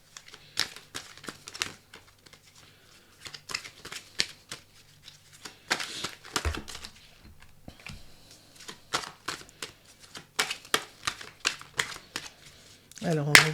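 Tarot cards are shuffled close by in quick irregular bursts of sharp riffling and slapping, with short pauses between.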